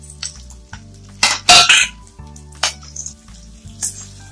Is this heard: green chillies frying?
yes